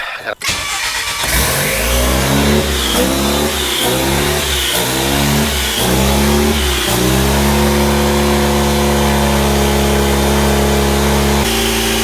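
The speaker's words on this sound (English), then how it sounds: "we're about to start the engine" A DeLorean fitted with an EcoBoost engine revs repeatedly in rising and falling bursts, then settles into a steady loud drone before cutting off near the end.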